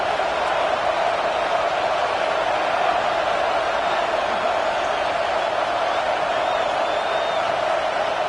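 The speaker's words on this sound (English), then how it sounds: "This crowd is trying to inspire this defense to make a big red zone stop." Steady roar of a stadium crowd in the College Football 26 video game during a red-zone defensive stand, a continuous dense wash of cheering and noise holding at constant loudness.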